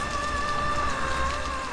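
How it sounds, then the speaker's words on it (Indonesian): Steady rain falls evenly, with a dense wash of drops and a faint tonal hum running through it, continuous and moderately loud, no voices. "Langit cerah beberapa waktu yang lalu dan sudah mulai hujan sekarang."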